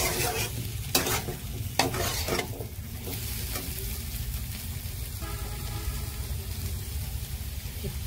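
Egg frying with sugar in a pan for a potato and egg curry, a continuous close sizzle with a few clanks of stirring.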